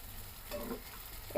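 Potatoes and taro for Bengali alur dum fry in oil with a quiet, soft sizzle and a brief stirring scrape, ending in a sudden louder crackle.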